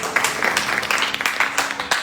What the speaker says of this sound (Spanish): Denle un fuerte aplauso al Señor que nos ha dado.